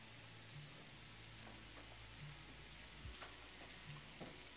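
Mushrooms sauté in a hot pan, giving a steady, close sizzle and crackle with scattered pops and faint stirring taps, with no voices.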